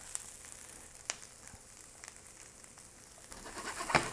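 Onions softening and caramelizing in a hot pan give off a steady, low sizzle with a few faint pops and clicks, rising slightly at the end.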